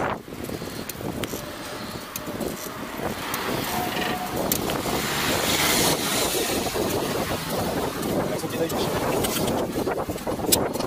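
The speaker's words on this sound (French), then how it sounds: "Le vent de face en plus, c'est du bonheur." A headwind roars steadily across the microphone outdoors, a loud, continuous rushing buffet of wind noise that builds slightly over about eleven seconds with occasional sharper gusts.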